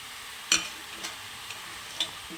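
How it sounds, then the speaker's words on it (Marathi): Spring onion greens fry in a pan with a steady soft sizzle. A few sharp knocks of stirring sound close by, roughly evenly spaced. "सगळी भाजी मी आता हलवून घेतली आणि खाली खाली चालली"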